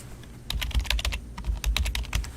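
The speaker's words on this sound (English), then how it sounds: "I was supposed to be typing in Chick-fil-A there" Rapid, steady clicking of keys being typed on a computer keyboard, close and clear with no voices, the keystrokes tumbling in quick uneven bursts.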